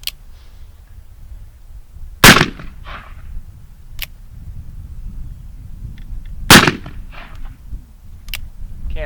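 Two loud, sharp shots from an Uberti Remington 1858 black powder revolver, fired outdoors about four seconds apart, each a sudden blast followed by a short ringing decay over quiet background.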